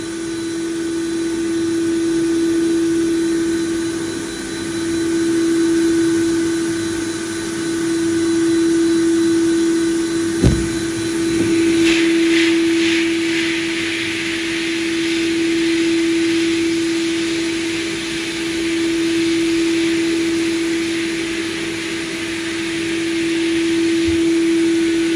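Steady roaring hiss of a sandblaster stripping rust from MG ZS 1.6 engine bay parts, loud and continuous with a strong tonal drone, a sharp knock midway and brighter spray hiss after.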